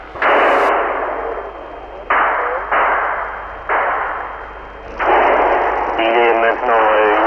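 Sharp, loud gunshots crack one after another through a city during the Algerian War, in an archival radio broadcast; about six broadband bursts over several seconds, each decaying quickly, with a brief stretch of distorted voice near the end.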